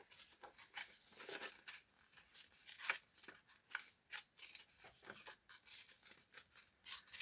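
Paper is fussy cut or torn by hand around a figure's head for a junk journal page. Close, quiet snips and rasping tears come in an irregular series of short bursts with pauses between them.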